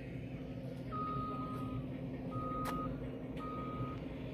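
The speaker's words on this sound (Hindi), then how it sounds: "गाड़ियाँ अभी आ रही है सामने आप देख सकते हैं" A line of trucks arrives at a Patel Infrastructure construction site over a low, steady engine rumble. A reversing alarm sounds three separate times, each a sustained electronic tone of about half a second, against the idling vehicles.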